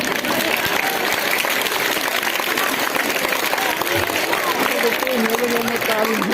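An audience at a stage magic show claps steadily and loudly, a dense continuous wash of applause with voices and shouts mixed through it.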